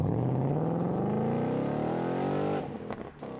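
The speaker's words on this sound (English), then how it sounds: "That glorious drenching sound comes from this absolute class act of a V8" A 2019 Ford Mustang Bullitt V8 accelerates hard, its engine note climbing steadily in pitch through a long loud pull before easing off abruptly, heard up close with no talk.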